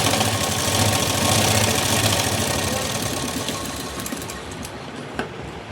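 A sewing machine runs steadily and close up while stitching tucks on the front panel of a blouse, a dense rapid needle chatter that eases slightly toward the end, with one small knock.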